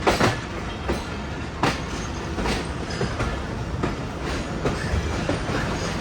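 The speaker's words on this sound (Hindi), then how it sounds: "तो फाइनली लाहौर जंक्शन को ट्रेन ने अलविदा कह दिया है और आगे बढ़े अपने नेक्स्ट स्टॉप यानी लाहौर कैंट" A Pakistan Railways passenger train pulls out of Lahore Junction through the yard at restricted speed, heard from on board: a loud, continuous rumble with regular clickety-clack wheel beats over rail joints, steady throughout with no voices.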